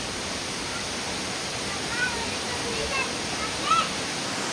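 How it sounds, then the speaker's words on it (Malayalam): Muddy rainwater rushes down a swollen stream, a dense continuous roar close by, with a few faint voices briefly rising above it. "ഇത് ഭയങ്കര കലങ്ങി മറിഞ്ഞ് വന്നുകൊണ്ടിരിക്കുന്ന വെള്ളം, ഭയങ്കര അഴുക്ക് വെള്ളം"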